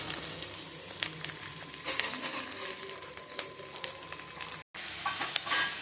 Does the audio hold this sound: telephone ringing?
no